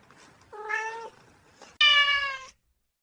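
Two cat meows up close, the first drawn-out and plaintive, the second louder and higher after a short pause.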